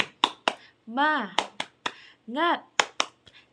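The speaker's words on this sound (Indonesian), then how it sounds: "Tepuk semangat." Children in a classroom perform a rhythmic spirit clap, sharp hand claps in a patterned sequence alternating with short chanted vocal calls, close and clear.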